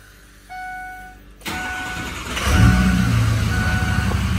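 A Ford 6.0 Powerstroke diesel truck cranks after a brief chime, then fires and settles into a loud, rough, rumbling idle that sounds close by.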